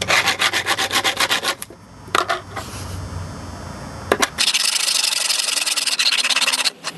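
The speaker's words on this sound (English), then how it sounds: "All you do, just rub it on the concrete." A metal can is scraped back and forth against a smooth piece of concrete outdoors, giving loud, steady rhythmic rubbing strokes with brief pauses and knocks, then a long continuous grinding scrape.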